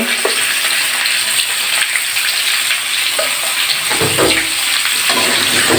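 Chicken pieces with salt and turmeric fry in hot oil in a pan with a loud, steady sizzle, and a burst of stirring and spattering comes in near the end.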